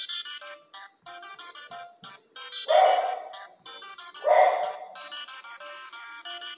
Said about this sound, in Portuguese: Os cachorros vão ficar latindo.